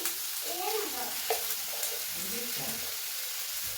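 Spices sizzle and fry steadily in a hot pan while being stirred, a continuous close crackle with a voice talking faintly underneath.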